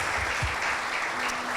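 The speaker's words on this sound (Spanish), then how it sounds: "Aplauda a Jesucristo, exáltele a Él." A church congregation applauds together in a steady, dense wash of clapping that stays loud and even throughout, with a faint voice underneath.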